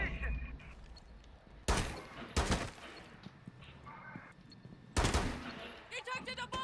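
Gunfire in a shooter video game, three loud sharp bursts spaced a second or two apart, with a quick rattle of shots near the end, over quieter in-game ambience and faint voices.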